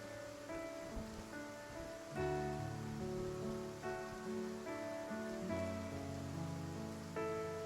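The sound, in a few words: rain falling, from the video game Love and Deepspace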